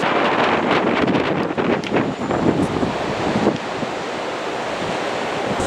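Surf breaks steadily on the beach below Tintagel in Cornwall, a continuous close wash of waves with gusty wind buffeting the microphone.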